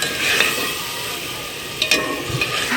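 Garlic dropped into a pan of frying onions and tomatoes, loud close sizzling with stirring scrapes and a couple of sharper spatula knocks, no talk.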